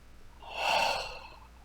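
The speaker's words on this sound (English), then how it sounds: "Let's take another breath." A single deep breath drawn in close to the microphone, a soft airy rush swelling over about a second and fading away.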